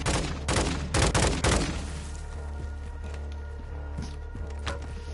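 Bursts of rapid gunfire in Warzone 2 DMZ, several loud volleys in the first two seconds followed by quieter scattered shots and thuds.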